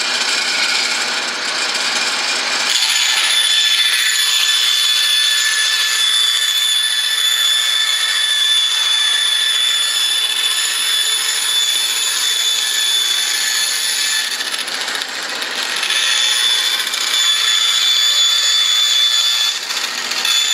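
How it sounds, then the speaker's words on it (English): A bandsaw with a C-clamped rip fence cuts wood strips for aircraft wing rib gussets, a steady loud rasping hiss running continuously with a faint whine, briefly easing around the middle. "I've got my bandsaw set up with a rip fence that I C-clamped on"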